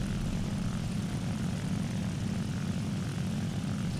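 Propeller aircraft engines in a video game plane battle drone in a steady, dense low roar that holds without a break, loud and continuous with no voices.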